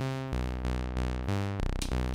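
A Volts PLATZ drum synth module, with clipping switched off, plays a series of long, low-pitched tonal hits with extended envelopes. Several sustained booming notes follow one another, the last few turning into quicker, buzzier stutters.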